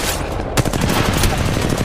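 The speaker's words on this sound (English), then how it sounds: "Oh, they're shooting at me!" Rapid automatic gunfire in the mobile battle royale game Apex Legends Mobile, a dense burst of shots filling the whole moment with loud, crackling fire and a sharper report partway through.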